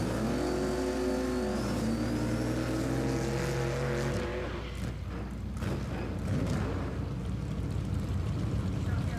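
A Chevrolet Chevelle SS runs in a grudge drag race. Loud engines roar and rev with rising and falling pitch, then fade into a steady wash of crowd and track noise. A voice comments over it.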